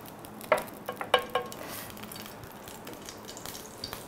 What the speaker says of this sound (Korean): 이어서 도라지도 볶아 보겠습니다. 참기름을 두르고.